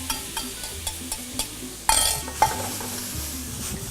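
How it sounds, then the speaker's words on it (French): Melon balls dropped into a quick brown sugar caramel, with a soft frying sizzle, light stirring and a couple of sharp pan clinks from the tossed fruit, all close and with no talking. "On rajoute les billes de melon."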